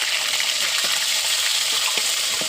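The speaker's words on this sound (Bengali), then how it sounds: "প্রথমে শুটকি মাছগুলো ভেজে নেবো।" Dried hilsa fish fries in oil with a constant bright sizzle, close and loud, broken by a few faint spatters and clinks. No one talks.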